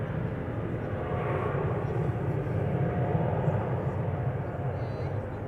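A jet airliner taking off at Amsterdam Schiphol Airport, heard from the perimeter fence as a steady, loud low engine roar with a broad rumble.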